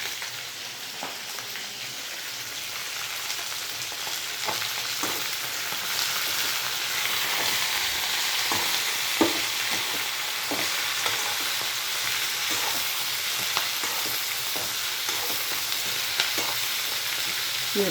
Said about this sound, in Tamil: ஒரு கைப்பிடி அளவு இந்த முடக்கொத்தம் போட்டுக்கிறேங்க.